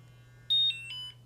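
A small electronic device with a little display beeping as it starts up, a loud close tone followed by a couple of shorter descending beeps, no talk during the sounds.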